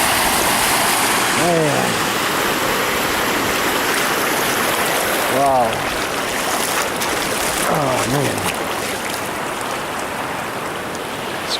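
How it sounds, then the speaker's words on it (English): Floodwater from an overfilled creek rushes and churns steadily near a farmyard drainage ditch, a broad constant roar throughout, with a man's brief exclamations over it. "This creek overfilled."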